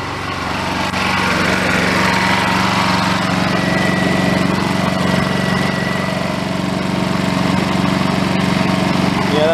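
A Honda EU2200i portable inverter generator runs with a steady, even engine drone and a faint mechanical buzz, close by and unbroken for the whole stretch, with no voices.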